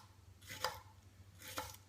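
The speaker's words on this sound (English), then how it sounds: "When you cut shallots, you have to go and follow the lines" Two soft, crisp strokes of a knife slicing through shallots on a cutting board, spaced about a second apart, quiet and close, with no talking.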